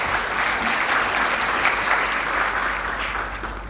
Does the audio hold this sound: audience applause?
yes